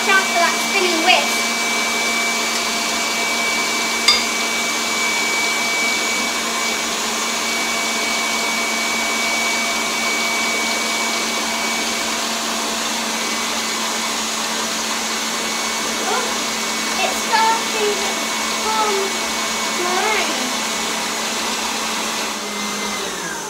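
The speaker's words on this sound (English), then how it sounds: "Watch out for that spinning whisk." An electric mixer with a spinning whisk whirs steadily while beating meringue for a cake, a continuous close motor hum with faint clatter and no pauses.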